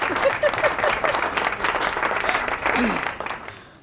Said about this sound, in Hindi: सही जवाब, तालियां हो जाएंगी।